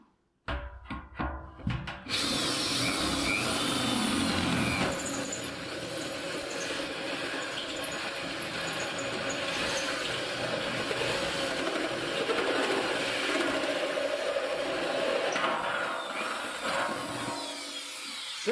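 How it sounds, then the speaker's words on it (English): A power drill bores through the side of a metal gasoline barrel, starting with a few short bursts and then running in a loud, steady whine with grinding metal texture for most of the stretch before stopping. "I'm going to try and drill a hole in the side here"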